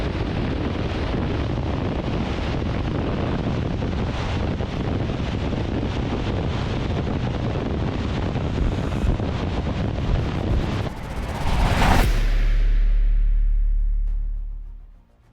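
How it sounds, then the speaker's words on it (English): Steady roar of wind buffeting the microphone on a blustery day, loud and continuous with no voices, ending in a deep low rumble that fades out at the close. "it's a windy day"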